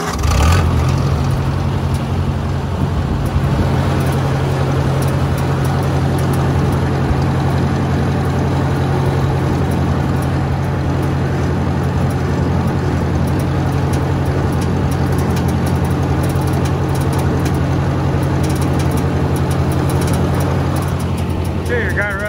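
A tractor engine runs steadily throughout with a low, constant drone while a King Kutter boom pole is hooked up, the motor close and loud with no break in the sound.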